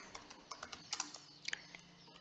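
Quiet, irregular clicking of a computer keyboard as a short phrase is typed, with keys tapped in small clusters and brief pauses between them.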